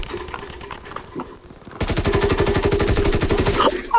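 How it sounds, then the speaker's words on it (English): Rapid automatic gunfire in Call of Duty: WWII, a loud, fast string of close shots after quieter ambience and scattered sounds, with no voices. "I'm shooting him!"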